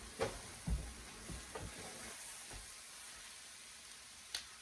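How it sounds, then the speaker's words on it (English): Ground beef and onions brown in a pan with a soft, steady sizzle, a few low thumps of stirring or scraping near the start and a faint tap near the end, all quiet and without talk. "we're just browning up this meat"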